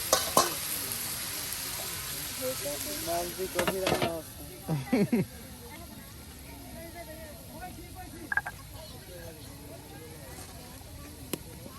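Fish cooks in a pan for a Bede family meal, giving a steady sizzling hiss with scattered stirring scrapes. Voices talk briefly over the frying near the start.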